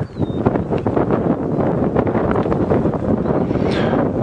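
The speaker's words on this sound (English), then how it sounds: "So as I say, it's really windy here." Strong wind buffets the microphone on an open-vehicle safari drive in rainy weather, a loud, constant rumbling roar with gusting bursts and a faint tonal whine near the start and end.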